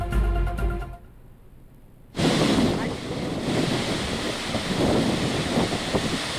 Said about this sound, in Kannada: ಬೆಳಗಾವಿ ಜಿಲ್ಲೆಯ ಗೋಕಾಕ್ನಲ್ಲಿರುವಂತಹ ಜಲಪಾತ ಗೋಕಾಕ್ ಫಾಲ್ಸ್